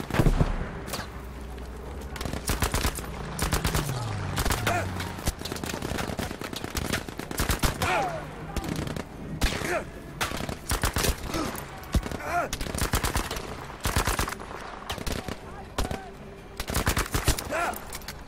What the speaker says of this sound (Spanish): no sé por qué tengo esta ametralladora si yo no cambié el fusil